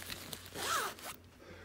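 A zipper on an RST motorcycle jacket drawn once, close and fairly quiet, making a short rising and falling rasp of about half a second with light fabric rustle around it and no talk.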